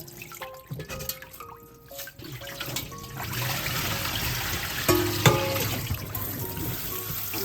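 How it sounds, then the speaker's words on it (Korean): Boiled glass noodles for japchae are rinsed and rubbed by hand in cold water, giving a continuous splashing and trickling swish with a few drips and clinks, and no voices. "당면은 요거 차가운 물에 씻어 보겠습니다. 이렇게 약간 이렇게 비벼줘야 됩니다."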